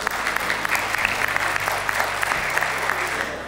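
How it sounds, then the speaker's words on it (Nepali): A congregation clapping steadily to welcome the pastor at a church wedding, loud, dense applause filling the room throughout, with a low hum underneath. "हामी सबैजनाले उहाँलाई ताली बजाएर हामी स्वागत"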